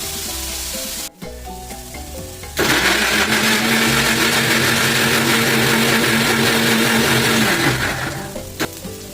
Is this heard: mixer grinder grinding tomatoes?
yes